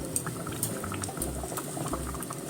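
Bone broth that has cooked for about seven hours simmers on low heat, bubbling softly and steadily with small pops and faint clinks, close by and quiet, with no voices.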